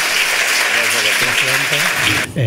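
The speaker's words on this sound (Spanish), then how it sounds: "vamos a despedir al presidente Calderón con un grandísimo aplauso" A large crowd applauds loudly and steadily, with a voice speaking briefly as the clapping ends.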